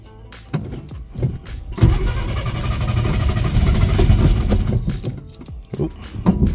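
A 1962 Studebaker Lark cranks in several rhythmic starter pulses, then its engine catches and settles into a loud, rough, close idle that wavers.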